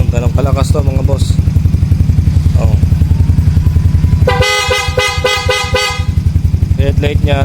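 A loud stock-and-aftermarket double horn on a Yamaha Mio Soulty motorcycle blares in a long honk, then short toots, close by over the scooter's idling engine chatter.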